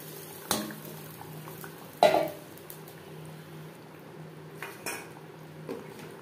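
A spoon scraping and clanking against a metal pot while mutton is stirred into curry gravy, with a few sharp metallic knocks spaced apart over a quiet background.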